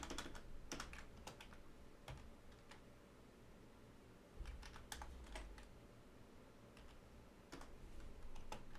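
Keys clatter on a computer keyboard during game programming work, irregular bursts of close typing with pauses, over a low steady room hum.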